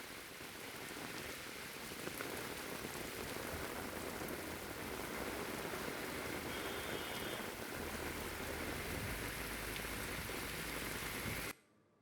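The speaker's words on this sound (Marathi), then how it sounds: "वादळी वाऱ्यासह जोरदार पाऊस झाला आहे" Heavy unseasonal rain falls with wind across the Yeola area of Nashik, a dense, steady roar of drops on surfaces that holds loud and even for most of the clip before cutting off abruptly near the end.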